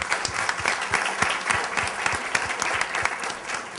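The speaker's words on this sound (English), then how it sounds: "So give Martha a big round of applause." An audience at a conference panel gives a sustained round of applause, many hands clapping briskly and evenly, moderately loud and close.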